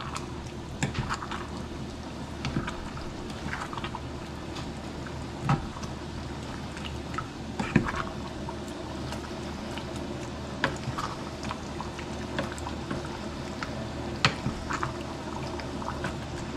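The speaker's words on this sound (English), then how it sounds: "Bring that back up to a boil." A pot of homemade chili returning to a boil on the stove, a soft steady bubbling simmer with scattered small pops and blips, faint and close, with no talking.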